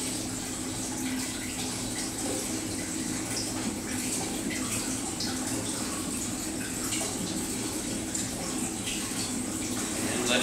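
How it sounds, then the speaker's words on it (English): A chlorine mixture drains through an opened valve from a mixing tank into a holding tank, producing a continuous, even rush of flowing liquid that holds steady the whole time. "you open the valve to drain from the mixing tank to the holding tank"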